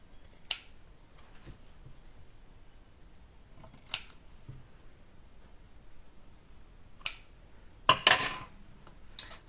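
Scissors snipping small paper squares for a handmade mini album, with a few sharp isolated cuts spaced seconds apart and a final quick double snip, close and crisp against a quiet background.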